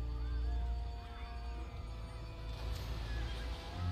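Ghost horse from the Haunted Mansion area of Disneyland Adventures, loud whinnying neighs with a clip-clop rhythm over a low droning ambience, no voices.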